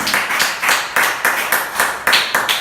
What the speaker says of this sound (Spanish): Ese aplauso que se escucha hasta el trono de gloria